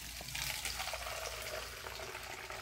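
Homemade old-fashioned root beer poured into bottles, a steady close splashing flow of liquid for a few seconds.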